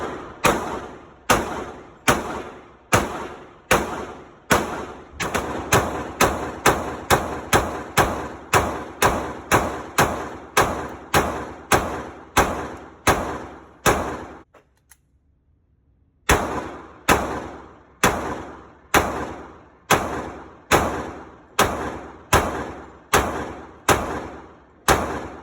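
A Glock 30 handgun in .45 ACP fires a long string of sharp, evenly spaced shots, loud and close, pausing for about two seconds midway before the steady shooting resumes.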